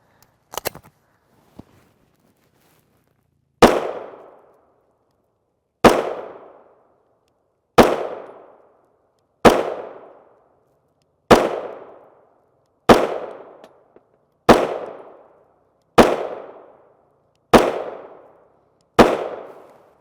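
A Glock 19 Gen 4 MOS pistol with a Holosun 407C sight fires 9x19mm 124-grain Geco FMJ rounds outdoors: ten sharp, loud shots spaced about two seconds apart, each with a short decaying echo.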